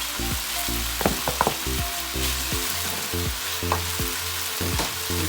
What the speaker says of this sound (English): So now we're gonna add the rice.